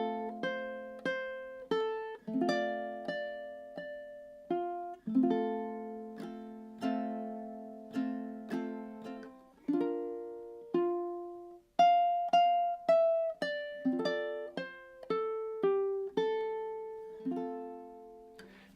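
Ukulele works through the opening stanza of a song, with plucked chords and melody notes in a flowing, steady rhythm, close, clear and unaccompanied by speech.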